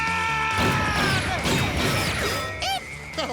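A bazooka round from the Sam & Max game slams into bulletproof glass with a loud, ringing smash, its bright shattering tones and whooshes filling the clip before a brief resonant tail fades out.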